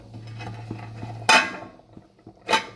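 A metal lid clanks down onto a pot of paneer curry with a sharp ringing clatter, followed a second later by another louder clink, against a quiet kitchen background with a faint low hum.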